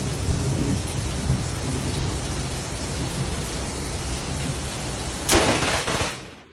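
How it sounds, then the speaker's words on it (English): Heavy storm with constant loud rain hiss, then a sudden close lightning strike gives a sharp crack and a rolling boom before the sound fades out, with no voices. "The lightning strike was close"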